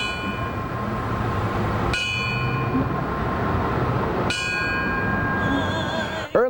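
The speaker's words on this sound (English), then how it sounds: "Erlanger rang a bell to remember fallen rescue workers and the other victims." A bell strikes twice at a September 11th memorial, a few seconds apart, each ring bright and resonant and slowly fading over a low steady background rumble.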